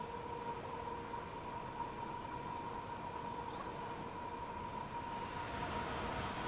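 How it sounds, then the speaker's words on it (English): A Pendolino high-speed train rushes past in Train Sim World, a steady loud rail rumble with humming wheel tones that stays close and even, building slightly toward the end. "Oh, I do like that though, with the Pendolino going past"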